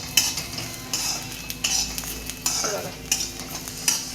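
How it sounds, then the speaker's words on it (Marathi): Ginger roasts in a pan while being stirred, with regular spatula scrapes against the metal every half second or so over a steady sizzle and a brief spoken aside. "त्याच्यात घालूया आपण हे थोडेसे अद्रक पण भाजून घेऊया"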